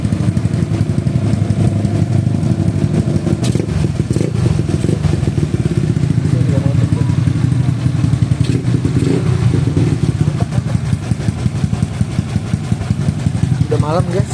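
Close and loud, the bored-up 130cc carbureted Honda Beat motorcycle engine runs with a steady chattering idle, broken by brief throttle blips and a few mechanical clatters and thumps.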